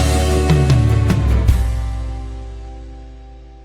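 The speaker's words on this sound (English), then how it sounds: "the acoustic guitars, instead of having that rhythm, they just strum out the chords" Acoustic guitars strum out sustained chords in a pop country chorus, a few bright strokes up close, after which the final chord rings on alone and fades away.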